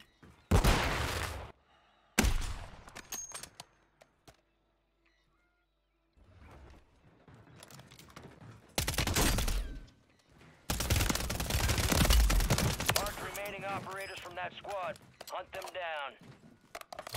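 Bursts of automatic gunfire rattle in a video game, several loud volleys separated by gaps, with a voice talking over parts of it.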